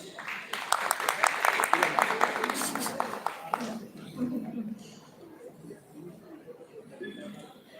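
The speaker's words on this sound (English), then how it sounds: "Can we have a huge round of applause for Ms. Parhar?" Applause from the audience at an education summit rises as a burst of many clapping hands for about four seconds, then thins out into quiet murmuring and scattered sounds.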